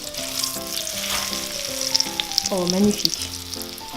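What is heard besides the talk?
breaded chizza frying in an oil bath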